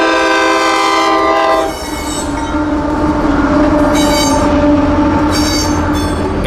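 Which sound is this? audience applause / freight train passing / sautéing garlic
freight train passing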